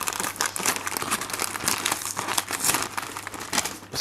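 Wrapping paper crinkles and rustles continuously as orchids are unboxed, close and fairly loud, with dense crackling bursts throughout and no talking.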